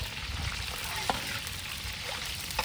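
Green chilies and curry leaves frying in hot oil, giving a steady, dense sizzle close up with a couple of small pops.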